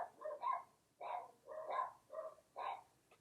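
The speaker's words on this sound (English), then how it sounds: "That's why my dogs are barking" Several barks ring out in short bursts, roughly six yaps in uneven rhythm, moderately near and fairly quiet, with no talking.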